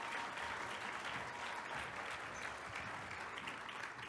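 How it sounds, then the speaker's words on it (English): An audience at a Rotary summit session gives a round of applause for Tonya, a steady, fairly distant wash of many people clapping that holds evenly for about four seconds. "Let's give a huge round of applause for Tonya"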